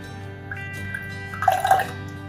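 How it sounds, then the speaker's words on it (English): Lime juice is poured into a homemade summer drink of soda water, salt and pepper, giving a brief, soft liquid trickle midway over a steady background hum. "Now first you have to add lime juice."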